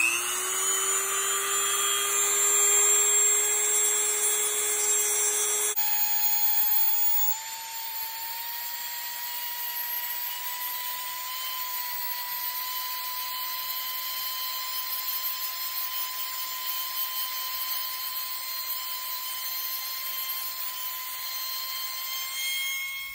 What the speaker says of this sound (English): we are going to see what we can do with a basic Dremel and sanding down